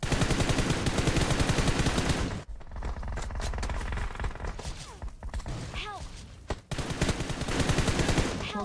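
Rapid gunfire in PUBG Mobile: dense bursts of automatic shots open the round, a quieter stretch follows with scattered shots and clicks, then heavy firing returns at the end.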